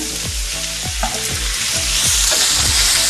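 Chopped tomato and onion sauté in a pan for a spicy pepper mutton dry fry, giving a loud, continuous sizzle close by, with repeated low scraping sweeps as the mixture is stirred; no talking.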